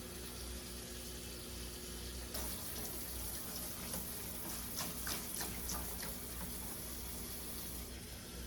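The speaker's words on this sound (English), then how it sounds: "Let's just let her get soaked in water." Tap water running into a basin to soak the roots of a tradescantia plant during repotting, a steady hiss and splash at low level that grows slightly busier with gurgling partway through, with no talking.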